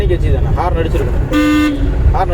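A car horn blares once in a short, steady honk during a driving lesson, amid people talking and background road noise.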